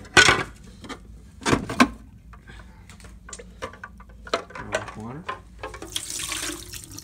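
Tap water runs into a coffee pot in a home kitchen, a steady moderate stream with brief clunks and handling noises, ending with a brighter rush of flow near the end.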